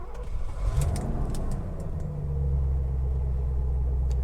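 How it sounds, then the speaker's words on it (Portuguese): A Mercedes-Benz 450 SLC with a German V8 rumbles close by, a deep, smooth low idle that thickens into a steady, heavier drone partway through. "Esse som suave de V8, dos V8 alemães, é algo fantástico."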